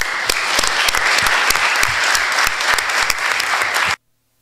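Loud, steady applause from a lecture audience, dense clapping that continues for about four seconds before stopping abruptly.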